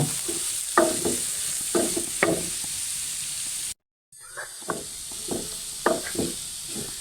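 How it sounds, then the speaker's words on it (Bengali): Papaya bhaji sizzles in a pan while a spatula stirs it in repeated scraping strokes over a constant frying hiss, with a brief cut to silence midway before the stirring resumes. "তারপর নাড়াচাড়া করব।"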